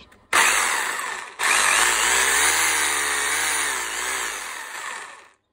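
A Makita HR2470 rotary hammer, freshly reassembled after a lost-hammering fault, starts up abruptly and runs in two loud bursts with a brief stop between, a steady close motor whine with no talk.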